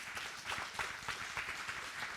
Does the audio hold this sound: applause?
yes